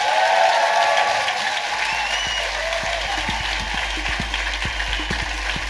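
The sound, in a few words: audience applause for Stephen Merchant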